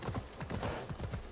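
Horse hooves clip-clop in a steady, rhythmic stream of close, moderately loud steps in the Assassin's Creed Shadows video game.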